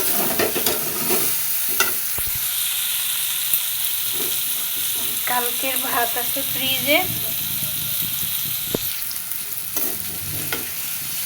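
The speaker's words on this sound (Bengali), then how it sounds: "আলু পটল ভাজি করতেছি" Potato and pointed gourd fry in a pan with continuous sizzling and hiss, broken by scraping stirs from a utensil, while someone speaks briefly over the cooking.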